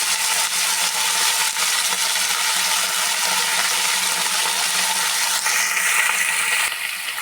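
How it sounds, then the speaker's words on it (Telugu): Small chopped brinjal pieces go into a frying pan of hot oil, setting off a loud, continuous, close sizzle that holds evenly throughout and eases slightly at the very end. "ఇందులోకి ఇప్పుడు చిన్నగా కట్ చేసుకున్న వంకాయలు వేసేసుకోవాలి"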